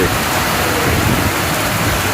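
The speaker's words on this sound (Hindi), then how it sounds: "तूफानी बारिश हो रही है, तूफानी।" Heavy stormy rain pours down on a road in Gujrat, Pakistan, as a loud, dense, unbroken hiss of rainfall that stays steady and close throughout.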